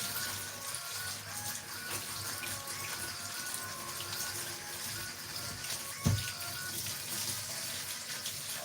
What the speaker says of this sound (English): Wash them in cold water.